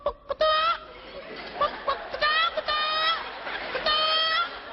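A person imitates a young hen, making short bursts of high, nasal clucking calls in irregular groups, close and fairly loud.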